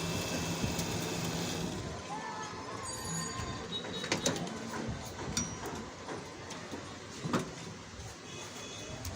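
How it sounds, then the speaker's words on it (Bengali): A coil winding machine winds a ceiling fan coil, giving a continuous mechanical whirring with faint ticking and occasional clicks, steady and fairly close, with no clear speech. "মেশিন দিয়ে কিভাবে কয়েল বাঁধানো হয় সেটাই আপনাদেরকে দেখানোর চেষ্টা করতেছি।"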